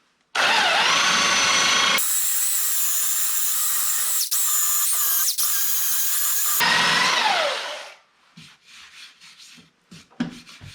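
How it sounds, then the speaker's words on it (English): A belt sander with a Dura gold disc runs loud and steady against wood, a harsh whining rub with a slight pitch shift before it stops, followed by quieter knocks and handling. "when you're using a belt sander, you don't push down. You let the weight of the sander do the work."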